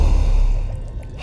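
A man named Noah gasps for breath in a horror game scene, a close, breathy, ragged intake that trails off over about a second.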